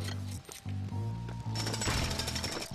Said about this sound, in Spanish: vamos a ponernos con el Chase McCain obrero para usar el martillo neumático y destruirlo todo bastante rápido